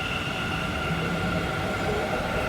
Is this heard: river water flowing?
no